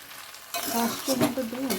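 Chowmein with vegetables, potato and egg stirred in a pan, sizzling and scraping steadily after a quiet start, with a few louder utensil clatters near the end.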